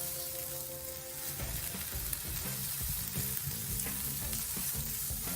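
Onions frying in a pan, giving a loud, steady, close sizzle with crackling that holds unbroken throughout, with no voices.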